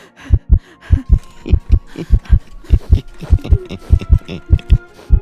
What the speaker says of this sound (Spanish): podía escuchar los latidos de su propio corazón golpeando rápidamente en sus oídos